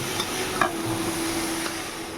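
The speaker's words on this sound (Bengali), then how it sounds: "তো গাজরটা ভাজা ভাজা হয়ে গেছে" Orange carrots for halwa stirred and frying in a black wok, a steady soft sizzle with scraping spoon strokes close by, no talking.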